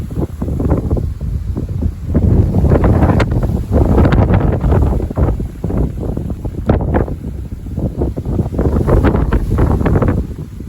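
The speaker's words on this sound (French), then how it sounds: "Il y a une petite bourrasque devant. Jusqu'à 70 km/h à cause du choc thermique." Strong gusty wind, mistral-like at up to 70 km/h ahead of a storm on a 32-degree day, roars steadily across the microphone in rising and falling buffets with no one speaking.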